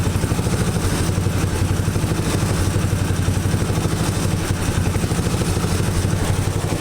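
Engine exhaust through double mufflers, a steady loud mechanical drone with rapid pulsing low rumble and clatter, constant throughout at close range.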